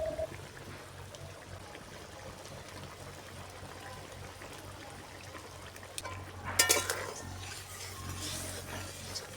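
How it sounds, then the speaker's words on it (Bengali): Fried lata fish dropped into boiling water in a pan for a pea curry, with a short splashing, bubbling burst partway through over a steady low hum of simmering. "জল ফুটে উঠেছে, এবার ভাজা মাছগুলো দিয়ে দেব।"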